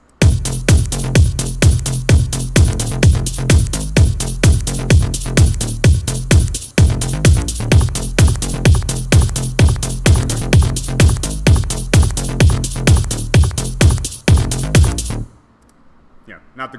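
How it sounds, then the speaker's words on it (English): A steady four-on-the-floor house drum beat with a punchy kick on every beat and crisp hats, looping loud for about fifteen seconds before cutting off. "It's now a 4 on the floor house kind of beat instead of this drum and bass loop idea."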